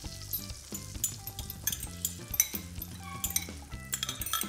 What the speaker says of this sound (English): The butter has melted down nicely. I've turned the heat down so it's not so hot, and then add the egg.